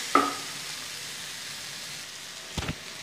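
Tomatoes cooking in a pan for an egg thoran, giving a faint, steady sizzle with a sharp clink near the start and a couple of soft knocks near the end.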